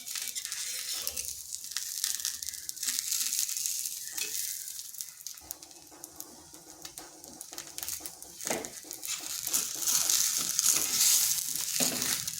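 Soru chakli pitha, a thin rice and lentil batter pancake, sizzles softly in a pan while a spatula turns and loosens it, with a steady faint frying hiss and occasional scraping taps.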